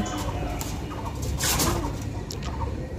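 Birds calling outdoors, soft cooing and clucking sounds from pigeons or fowl, moderately close, over steady background noise.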